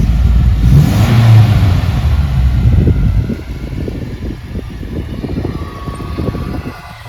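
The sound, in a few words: abandoned Volvo 240 engine revving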